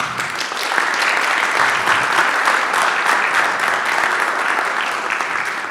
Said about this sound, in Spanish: Un fuerte aplauso para la Valeria.